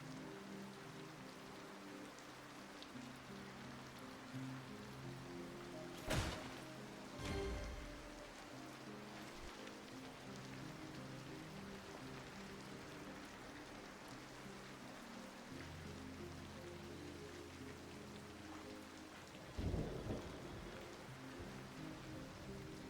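Rain falls in a video game, a steady soft hiss throughout, with two brief louder rumbling bursts partway through and near the end.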